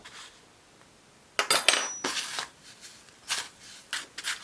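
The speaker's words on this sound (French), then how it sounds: "Avec la fourchette, on vient la retourner, ensuite on enlève l'excédent d'œuf et on dépose ça directement dans la chapelure." Fork clinking against a bowl while turning a breaded chicken nugget in beaten egg, several light metallic taps and scrapes in short bursts, close and fairly quiet.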